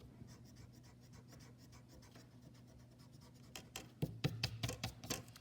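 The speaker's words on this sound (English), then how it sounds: "I'm gonna go in and erase out my lines going back to my vanishing point" A pencil eraser rubs out drawn perspective lines on paper, a soft steady scratching that turns into louder, quick back-and-forth strokes near the end, close and alone.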